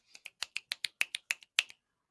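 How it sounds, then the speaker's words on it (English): A run of about a dozen crisp finger snaps used as quiet applause, close and evenly spaced, slightly irregular toward the end, then silence. "I'd like to take this moment to do golf snaps."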